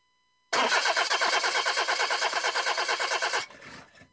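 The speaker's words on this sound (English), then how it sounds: "Car won't start?" A car engine cranks steadily for about three seconds with a fast, even rhythmic churn that fails to catch, then trails off, loud and close with no talk, like a radio ad sound effect.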